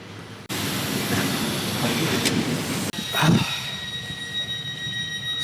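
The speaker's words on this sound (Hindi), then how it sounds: "ये ट्रेन है, देखो इस तरह की ट्रेन आती है इंटरसिटी।" Swiss intercity train rolling into a station, a steady broad rumble of wheels and carriage noise with a brief squeal and a passing whoosh midway, fairly close, with no talking.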